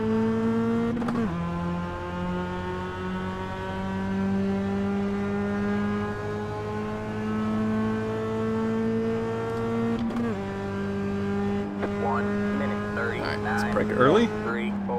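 Race car at Silverstone in iRacing: a steady high engine drone climbing in pitch through the gears, with a sharp downshift and re-acceleration midway, sitting under continuous talk.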